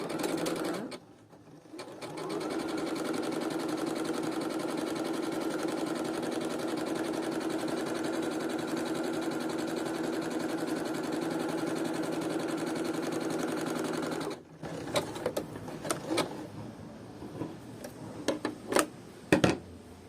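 A Bernette sewing machine runs steadily while sewing a pico rolled hem stitch, a continuous close mechanical hum for about twelve seconds, then stopping into a few scattered clicks and handling noises.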